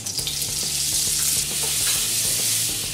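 Butter and oil sizzle loudly and steadily in a kadhai over a gas flame, a dense continuous hiss close up with faint clicks underneath and no pauses.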